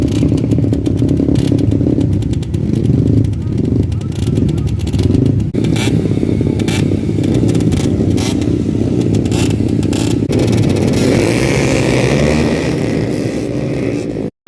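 Dirt bikes race and rev at the Golden Langur Festival 2024, loud continuous engine roar from several bikes nearby with scraping clatter and rising revs, ending abruptly.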